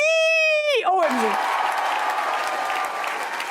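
An audience at a La France Insoumise political rally in Saint-Denis bursts into sustained applause to welcome a speaker onstage. A short tonal sweep comes first, then a broad, steady clapping wash lasts to the end.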